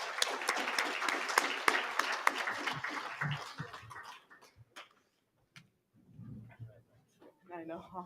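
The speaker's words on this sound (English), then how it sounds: "Let's give them a round of applause" An audience breaks into a round of applause, dense clapping that fades out after a few seconds, followed by scattered voices talking and a few leftover claps.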